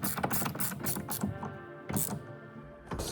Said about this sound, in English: I'm just going to hit it with a socket.